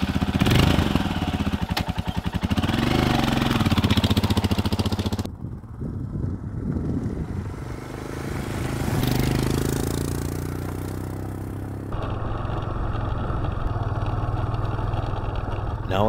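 Loaded touring motorcycle underway on the road toward Karijini National Park, its engine a steady droning rumble with wind noise that shifts in tone partway through, staying fairly close and continuous throughout.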